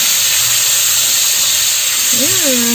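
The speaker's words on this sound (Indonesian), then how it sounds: "kita akan menggoreng terinya terlebih dahulu sebelum kita mulai menumis" Small anchovies (teri) fry in a pan, a loud constant sizzling hiss that fills the clip, with a brief voice rising over it near the end.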